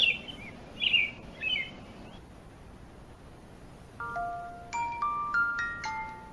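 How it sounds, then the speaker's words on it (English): A bird chirps in a few short, bright bursts at the start, moderately loud and alone with no talk, followed by quiet and then a run of high tonal notes that sound more like music than birdsong. "It's a bird! A bird is chirping."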